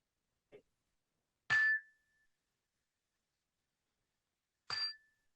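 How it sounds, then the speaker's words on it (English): A meditation bell rings twice during a mindfulness session, each strike bright and clear with a sustained ringing tone fading over about half a second, separated by silence, after a faint soft knock. "I'll ring the bell."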